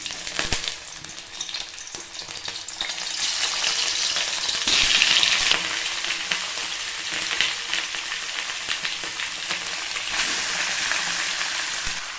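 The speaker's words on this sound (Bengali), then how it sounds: "একে একে সমস্ত মাংসগুলো দিয়ে আমরা একটু ফ্রাই করে নেবো" Chicken pieces fry in oil with cloves, cardamom and cinnamon for a Bengali chicken kosha, a loud steady sizzle that swells and holds with occasional stirring clicks, no voices.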